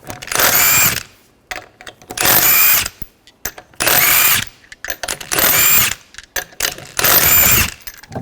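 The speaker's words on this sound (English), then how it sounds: "Remove the lug nuts, use a 19mm socket." Power tool with a 19mm socket spinning off lug nuts on a Ford Escape, five loud whirring bursts of about a second each separated by short pauses, close up.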